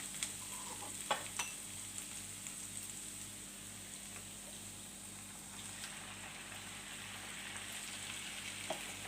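Mushrooms and vegetables sizzle steadily in a hot pan as tomatoes are added, with occasional scraping and clicking of a utensil stirring, fairly quiet and continuous.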